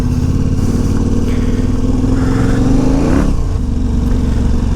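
A KTM 1290 Super Adventure R motorcycle ridden off-road gives a loud, continuous engine drone close by. The pitch climbs and then dips briefly partway through, with no talking.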